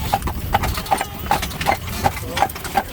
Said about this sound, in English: He's letting the other horse pull the wagon.